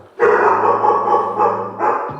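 Dogs let out loud, close barks: one long, drawn-out bark that nearly becomes a howl, then a second shorter one after a brief dip, with no talking.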